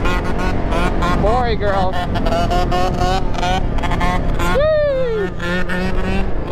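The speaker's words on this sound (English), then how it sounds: "Killing it on that two-stroke." A two-stroke quad engine screams at high revs while riding, a loud, buzzy, close drone with sharp pitch swoops as the throttle opens, with people cheering and shouting over it.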